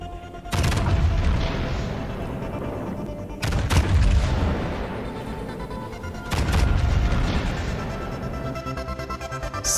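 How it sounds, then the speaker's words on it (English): The Yamato battleship fires its main guns three times in the naval game World of Warships Legends. Each salvo is a loud, deep boom, and each one rolls into a long rumbling decay before the next. "Oh, and did I mention Yamato gun sound?"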